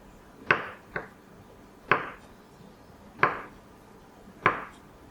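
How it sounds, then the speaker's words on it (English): A knife cutting shrimp on a board, five sharp, close chops at a slow, uneven pace with quiet pauses between them, no talking. "then I'll cut them in half like this"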